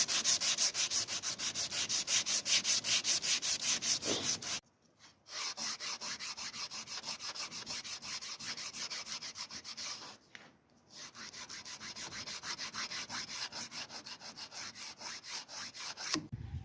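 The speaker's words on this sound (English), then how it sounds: "so now begins hand sanding" A wooden handle on a Japanese bunka knife is hand sanded with rapid, steady back-and-forth rasping strokes, close and clear, pausing twice briefly before resuming.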